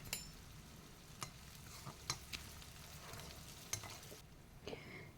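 Onions and green chillies sauté in a pan with a faint, continuous sizzle, marked by occasional scraping stirs and light clinks of a spoon.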